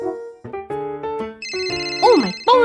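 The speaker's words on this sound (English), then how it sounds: "Oh, my phone's ringing." Cartoon telephone ringtone in a children's police cartoon, a bright melodic electronic jingle of rising tones, loud and alone, repeating its phrase with warbling notes near the end.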